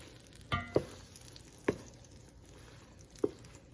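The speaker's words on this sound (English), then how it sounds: "So just mix them around" Rice Krispies mixture stirred in a pan, a quiet background sizzle broken by three soft scraping, squishing strokes spaced about a second apart.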